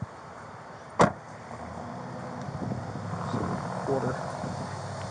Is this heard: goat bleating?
no